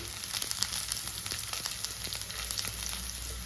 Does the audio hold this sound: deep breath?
no